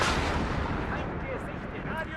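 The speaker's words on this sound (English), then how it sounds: "That artillery is brutal." Artillery fire in the WARNO strategy game, a dense, continuous rumble of heavy blasts and booming impacts, loud throughout with a few higher whistling or crackling details on top.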